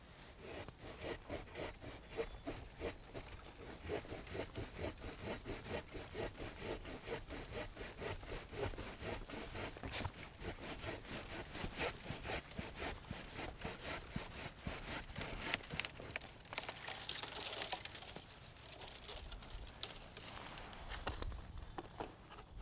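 A pruning saw works through a tree branch, first an undercut then a top cut, in steady rhythmic back-and-forth rasping strokes, close and continuous, with a short pause and rougher strokes toward the end.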